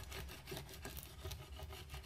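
Steady scratchy rubbing across an embossing folder while making a card-craft mini album, a continuous dry scraping texture of fairly even loudness, close by, with no voices.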